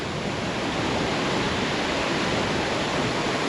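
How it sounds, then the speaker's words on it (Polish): A steady, loud rush of falling water from a mountain waterfall near Maso Corto, Italy, dense and unbroken throughout, like standing close to it. "A tu piękny wodospad."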